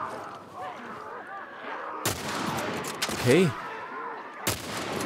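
Gunfire in The Last of Us Part 1 comes as three loud, sharp shots spaced a second or more apart, close and punchy, while someone talks and murmurs in between.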